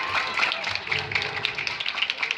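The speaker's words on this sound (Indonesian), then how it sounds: "Tepuk tangan." Clapping from a gathered crowd at a Quran memorization test event, a dense, steady patter of many hands heard nearby with voices faintly underneath.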